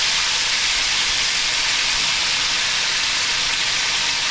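Red chilies, ginger and black pepper stir-fry on high heat in a wok, giving a steady, loud sizzling hiss close by that never lets up, with no talking.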